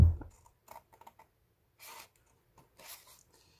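Scissors cut close by in a few short, crisp snips separated by quiet gaps, with light handling clicks between them.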